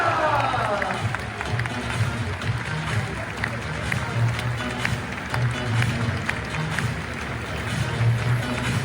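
A football stadium crowd at a Lorient home match applauds and cheers for a player, a broad continuous roar of clapping and shouting with an announcer's voice over it.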